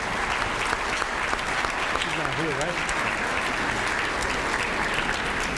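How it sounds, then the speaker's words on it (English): Sustained applause from an event audience, a dense, steady wash of many hands clapping at even loudness, with a brief voice speaking underneath. "let's give a round of applause for our other sponsor,"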